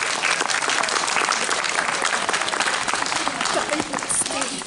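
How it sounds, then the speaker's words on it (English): A concert audience applauds choir students in a steady, full round of clapping from many people, with some voices heard through it. "one more round of applause for these amazing students"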